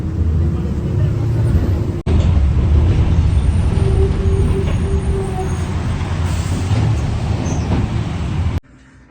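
Riding aboard a city bus, a continuous low engine rumble and road noise fill the cabin, with a brief thump partway through and the sound cutting off near the end; no clear speech stands out.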